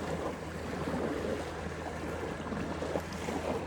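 Loud ocean waves wash in continuously, a dense, steady roar of surf and rushing water with wind, close and unbroken throughout.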